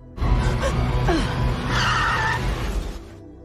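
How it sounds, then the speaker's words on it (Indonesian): Car tires skid loudly in a film accident scene, a continuous harsh screech lasting about three seconds with a gasp-like sound partway through and no speech. "akibat kecelakaan tersebut, Madison harus dilarikan ke rumah sakit"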